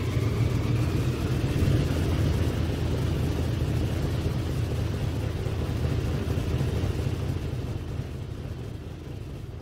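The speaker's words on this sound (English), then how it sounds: "The first plane takes off at about 5:30 Biafran time" A relief plane taking off on a Biafran airlift runs its engines in a dense, steady roar that slowly fades slightly, loud and continuous throughout with no voices.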